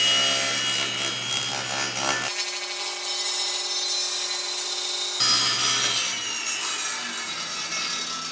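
A table saw blade runs through a wood piece on a crosscut sled, a steady loud whine whose pitch and grit change as the cut starts and ends, with no talking.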